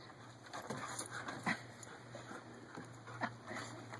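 A dog pants and whimpers softly close by, with quick breathy sounds and small whines over a constant background hum.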